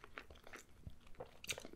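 Someone bites into grilled pita during a mukbang meal, giving a few close, dry crunches with short chewing noises in between. No one speaks.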